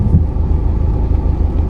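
Rush-hour road traffic, a steady low rumble of engines and passing cars, close and continuous without any horn or voice, dense and unchanging through the whole short stretch.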